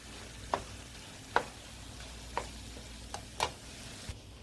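Chunky salsa being stirred into a sizzling pan, a quiet fry beneath several separate scraping and clicking strokes of the spoon, spaced about a second apart.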